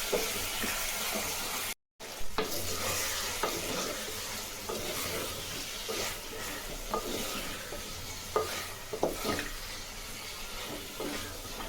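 Chopped tomatoes sizzle and fry in a pan for drumstick sambar, a steady hiss broken by stirring clatters and a few sharp spatters, close and moderately loud with no talking.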